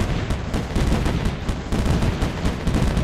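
Artillery fire in the video game M.A.C.E. Tower Defense: dense, rapid booming shots in an irregular, overlapping rhythm, loud and continuous with no talk.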